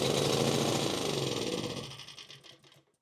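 A Predator 1800W generator engine starved of fuel runs roughly with a rapid sputtering chug, then loses power and fades out into silence as it stalls.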